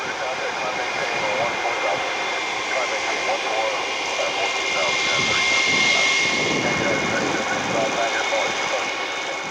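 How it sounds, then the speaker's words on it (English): A United Airbus A319 jet taking off at Cleveland airport, its engines giving a loud, steady roar that swells slightly midway, with a person talking over it. "United will be heading out the 319 on its way to Chicago"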